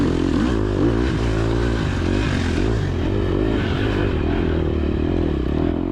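A KTM SXF dirt bike rides woods singletrack, its engine droning steadily up close with rising and falling revs, plus clatter and scraping from the rough trail.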